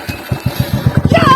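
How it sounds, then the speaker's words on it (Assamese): A second-hand motorcycle's engine cranks and starts after a bike puja, with rapid rhythmic low thumps that quicken toward the end as it catches, close and fairly loud. "এবাৰ বাইকখনকে ষ্টাৰ্ট কৰি দিওঁ নেকি?"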